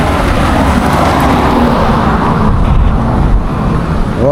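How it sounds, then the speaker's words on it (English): Cars and a bus driving past on a road in Ocho Rios, Jamaica, a loud, close, continuous engine and tyre rumble that swells as vehicles pass nearby. "One Spanish Town car, one bus."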